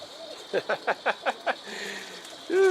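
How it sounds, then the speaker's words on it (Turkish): Loft pigeons coo in a short burst of six low, evenly spaced hoots, close and clear over a faint background hum. "Kuşları yukarı çıkaramadım iyi mi?"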